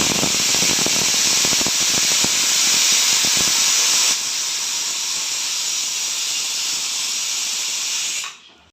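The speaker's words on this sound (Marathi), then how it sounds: "आपण आता कुकर लावू आणि ते कुकरला 5-6 शिट्ट्या देऊ" A pressure cooker cooking mutton releases a loud, steady steam whistle and hiss, strongest at first and then steadier. It runs for several seconds and cuts off abruptly at the end.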